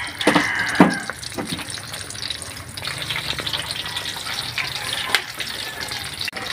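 Water pours steadily into a cup or pot to make a chocolate malt drink at breakfast, a continuous close splashing that runs the whole time, with a few sharper clinks near the start and later on.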